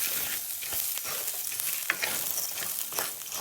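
Rice and onions toasting in a pan for cranberry risotto, giving a soft, continuous sizzle and faint frying crackle with occasional stirring scrapes, no voices.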